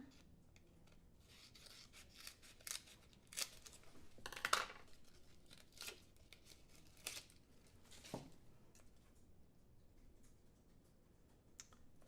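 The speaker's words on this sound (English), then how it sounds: "We'll go ahead and trim a couple of strips off of here." Foam sheet strips being trimmed for a handmade floral card, heard as scattered soft scissor snips and rubbing scrapes close by, with a few sharper cuts spaced over the quiet stretch.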